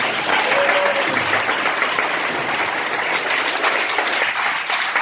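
A church congregation claps for the worship music team, dense sustained applause from many hands filling the room evenly for several seconds, loud and close.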